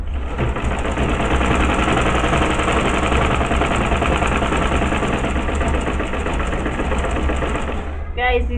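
A sewing machine stitches fabric at a steady, rapid rhythm, a loud close mechanical whir and chatter running continuously before stopping abruptly near the end, where a brief voice is heard.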